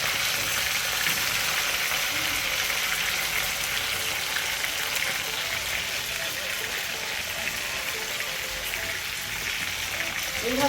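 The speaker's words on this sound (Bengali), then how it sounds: "এইভাবে চিকেনটাকে ভাজলে রেস্টুরেন্টে যেরকম একটা ছ্যাঁক ছ্যাঁক মতো ব্যাপার থাকে না" Chicken pieces frying in a pan for biryani give a steady broadband sizzle that holds at the same loudness throughout, dense and close with no pauses.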